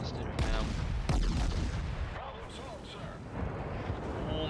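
Naval artillery booms in the World of Warships video game, heavy deep blasts and rumbling impacts layered over a constant low roar, with a person talking underneath.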